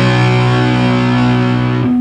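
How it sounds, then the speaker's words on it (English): An unmuted electric guitar power chord rings out loud and sustained through a distortion effect, holding steady for about two seconds before the pitch shifts slightly as it is released. "if we weren't touching the strings at all, it would sound like this"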